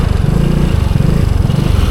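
A Lambretta X300 Special scooter engine runs steadily at close range while riding, a continuous buzzing rumble with a slight pulsing throb.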